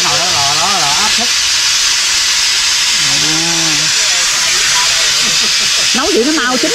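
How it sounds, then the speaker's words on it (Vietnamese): Steam hisses steadily from a pressure cooker cooking tofu, a constant close hiss running beneath conversation between people in the kitchen. "Cái nồi đó lò đó là áp suất."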